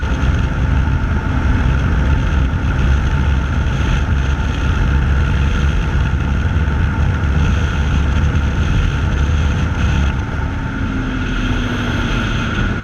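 A Bajaj Dominar 400 motorcycle at speed, its engine drone buried under a loud, constant roar of wind blast buffeting the rider's microphone throughout.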